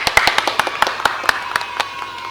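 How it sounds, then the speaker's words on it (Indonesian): A small group claps in a quick, uneven patter of distinct hand claps, close and fairly loud, for a governor introduced as a guest on a talk show episode about facing COVID-19. "Tepuk tangan dulu."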